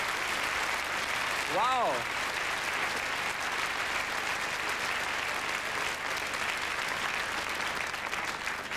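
A comedy festival audience in Arosa bursts into sustained, dense applause that fills the room, with a single voice calling out briefly near the start.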